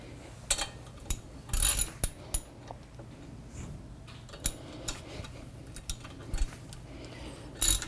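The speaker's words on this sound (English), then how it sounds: "They want this torx screw torqued to 25, 26 foot-pounds with my highly calibrated torque wrench." A torque wrench tightening a torx screw on a new front brake rotor of a Land Rover Discovery Sport, giving a series of sharp, close ratcheting clicks in irregular bursts, fairly quiet and without talk.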